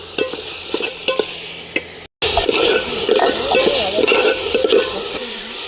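A peanut rice mixture sizzles in a hot pan while a spatula stirs and scrapes it in steady strokes, with one brief dropout partway through.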